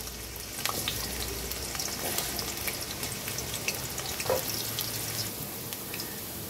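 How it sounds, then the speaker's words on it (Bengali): Potatoes fry in oil in a kadai with a continuous dense sizzle, steady and close, broken by a few faint clicks of a utensil. "আলুগুলি ভেজে নেব প্রথমে।"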